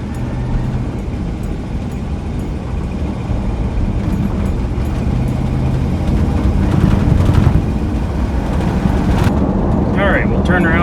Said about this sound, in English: we're gonna take her down the gravel road here at 80 if we can